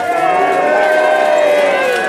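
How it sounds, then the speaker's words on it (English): A crowd at a battle reenactment at Bec Abbey in Ruislip cheers for the De Cobhams, a sustained massed shout of many voices, close and loud and steady throughout. "So shall we have a cheer for the De Cobhams?"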